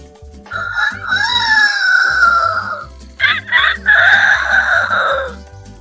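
A man imitates a rooster crowing over a voice chat, two loud drawn-out crows in a row with a short broken gap between them, set against a faint repeating music beat.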